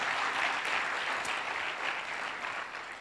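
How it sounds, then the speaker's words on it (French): Audience applause for the director general of Canal+ Burkina at a business launch event, steady fairly soft crowd clapping that tapers slightly toward the end. "vous avez le droit, mesdames et messieurs, de l'applaudir encore une fois"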